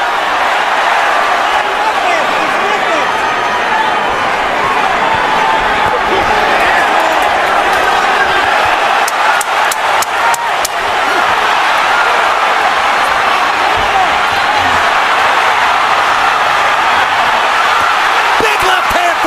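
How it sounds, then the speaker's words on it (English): A boxing arena crowd roaring throughout the Pacquiao vs Marquez fight, a loud continuous wall of cheering with sharp bursts of punches or slams in the middle, while commentators talk over it. "The crowd's on its feet."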